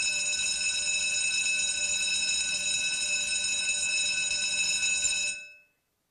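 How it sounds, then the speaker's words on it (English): A school bell rings in one loud, steady, continuous electric tone that holds for about five seconds before cutting off abruptly. "That's right, the song of the school bell."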